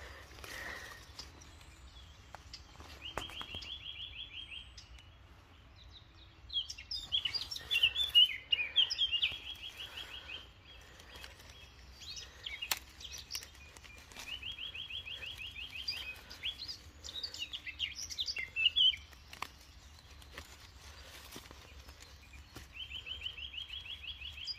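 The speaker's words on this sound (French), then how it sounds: "Le merle qui chante." A blackbird whistles a repeated melodic phrase every few seconds, clear against quiet outdoor background hum with faint rustles.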